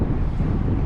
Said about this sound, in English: the wind picked up really fast